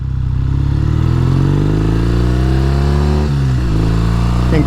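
A 1969 Triumph T120R motorcycle on the highway, its engine droning loud and close as it pulls through the gears, pitch climbing steadily before a brief dip at a shift and then rising again.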